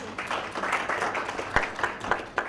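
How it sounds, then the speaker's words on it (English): Brief, moderately loud applause from a workshop audience, a patter of many hands with a few sharper individual claps standing out. "Just a round of applause for the audience."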